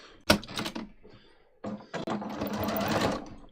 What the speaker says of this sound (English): I'm literally going to just sew down these 2 pleats